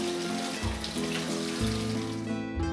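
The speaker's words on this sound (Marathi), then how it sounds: "नंतर वाहत्या पाण्यात ही कोळंबी स्वच्छ धुवून घ्या।" Running tap water splashes steadily over raw prawns being rinsed in a kitchen sink, a close, even rush with small shifts in tone as the prawns are moved under the stream.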